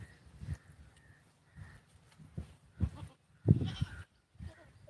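A goat with a cold bleats and sneezes in a farm setting, giving several short, nasal calls spaced across the moment with faint rustling between them, fairly close by.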